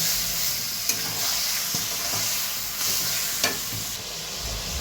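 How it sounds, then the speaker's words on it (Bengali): Mutton sears in a pan with cumin and bay leaves, a loud broad hissing sizzle that runs steadily throughout, broken by a few brief scraping stirs, with no voices. "এবার আমি মাংসটা দিয়ে দিলাম। মাংসটাকে ভালো করে আমি এখন কষবো।"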